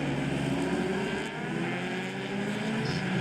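Powerbike racing motorcycles roar past on a circuit, a dense, continuous engine drone that shifts in pitch as the tightly bunched pack goes by, loud and near with no talk.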